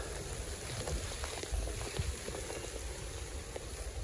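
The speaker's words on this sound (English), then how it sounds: "I'm not sure whether you can hear the rain coming down." Rain falls steadily outdoors at the scene of a road traffic accident in St Albans, a faint, even hiss and patter of drops with scattered soft ticks and no voices.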